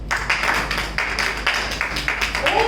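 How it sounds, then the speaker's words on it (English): A small audience at a Toastmasters meeting claps in a close, uneven burst of individual hand claps with audible separate strikes, continuing steadily throughout. "Another round of applause."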